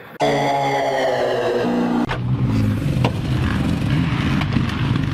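A KTM SXF motocross motorcycle engine revs loudly and close, holding a strong harmonic note for about two seconds before dropping into a rougher, lower running sound that continues steadily.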